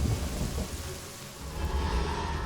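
Dense rain with rolling low thunder rumbles fills the scene in the dark fantasy game Iratus: Lord of the Dead, a continuous loud storm wash with no voices over it.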